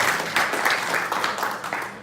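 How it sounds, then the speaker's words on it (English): A meetup audience claps for the event organizers in a dense, continuous wash of applause at moderate volume that lasts for a couple of seconds. "Round of applause for the organizers."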